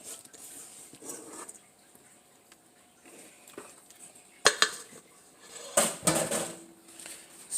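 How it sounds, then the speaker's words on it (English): A dish goes back into the oven in a home kitchen, heard as a few sharp metallic clanks and clatters of cookware and racks between quieter moments. "So back into the oven it goes"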